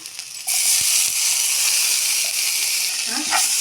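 Chopped tomatoes hit a hot pan with oil and ginger-garlic paste while cooking paneer masala, setting off a loud, steady hiss that spreads across the whole clip. A few faint utensil clicks sound underneath it.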